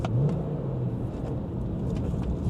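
A BMW 1M or 135i car accelerating hard, heard from inside the cabin as a steady, rumbling engine drone that holds loud throughout the brief moment without talk.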